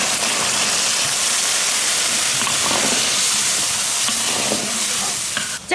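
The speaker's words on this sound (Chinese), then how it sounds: "加入开水" Boiling water going into a hot pan of fried pork belly with soybean paste, dark soy and light soy, giving a steady, loud sizzling hiss and steam that fills the whole stretch with faint clinks near the end.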